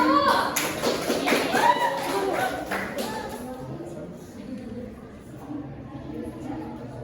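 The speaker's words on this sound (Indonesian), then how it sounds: "tepuk tangan buat kelompok 1" A classroom of students applauding a group about to present, a burst of brisk clapping up front that thins out, with children's voices and shuffling under it.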